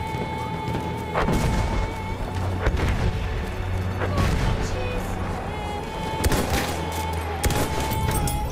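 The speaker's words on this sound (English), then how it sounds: "Look out! Machine gun!" Machine gun fire in a Battlefield 1 match: rapid, loud bursts of gunfire mixed with heavy booms and explosions, chaotic and overlapping throughout.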